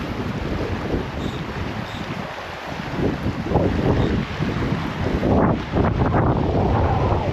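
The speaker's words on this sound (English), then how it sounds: "Big pine tree behind me. Mild wind." Mild wind blows steadily outdoors beside a canyon pool under a big pine tree, a continuous rushing hiss that swells louder partway through, with soft gusting buffets against the microphone.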